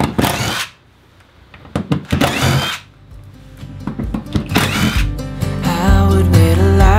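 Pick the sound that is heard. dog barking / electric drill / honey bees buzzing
electric drill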